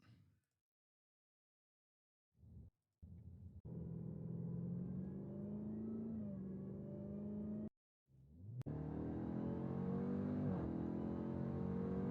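A car engine revs up in long, sustained bursts with rising pitch, broken by sudden cuts to silence, loud and close.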